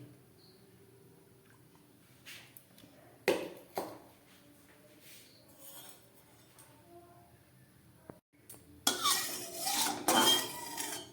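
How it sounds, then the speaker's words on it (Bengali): Cut potatoes go into hot white oil in a kadai: scattered metal clinks and utensil clatter in a quiet kitchen give way near the end to loud, broadband bursts of sizzling. "এই গরম তেলের মধ্যে আমি একটু কেটে রাখা আলু ভেজে নিই"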